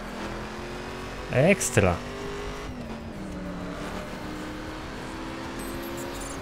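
A rear-wheel-drive Ford held at full throttle in The Crew, a steady engine drone with a brief burst of tire squeal and a short spoken word over it.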